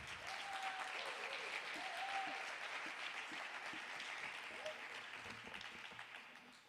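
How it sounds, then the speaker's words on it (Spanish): Steady applause from a crowd, continuous clapping that holds at an even level before gradually tapering at the end. "Nacho, un aplauso para él, primero."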